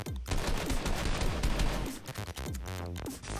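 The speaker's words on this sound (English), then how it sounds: "So this guy's shooting through the floor." Rapid bursts of video game gunfire as a player shoots up through the floor from below, loud and close, with dense repeated shots that trail off into scattered echoing reports.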